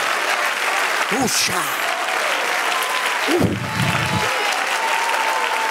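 A church congregation applauds during a Spanish-language service, steady hand clapping filling the room while a voice briefly speaks over it and another short vocal outburst rises midway.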